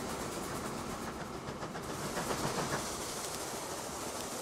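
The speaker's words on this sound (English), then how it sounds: "Hopefully I can just use this slip switch as a way to turn the train around." A train running on rails in Transport Fever 2, a steady rolling rumble with faint rhythmic clickety-clack and a hiss of wagons, continuous throughout with no speech.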